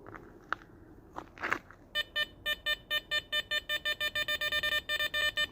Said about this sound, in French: On est maintenant passé à un vrai son de détecteur.